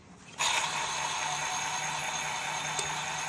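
A Dolphin ring cutter, its cutting interface sprayed with lubricant, grinds steadily through a tungsten carbide ring, starting abruptly with a loud, continuous mechanical whir that holds even throughout.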